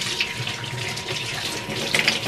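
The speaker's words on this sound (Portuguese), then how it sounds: "É água, cara." Tap water runs steadily while pets are bathed and rinsed of soap, a continuous splashing hiss with a few brighter spatters near the end and no talk over it.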